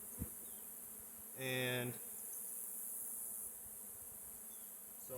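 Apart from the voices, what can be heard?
honeybees buzzing at a mite-ridden hive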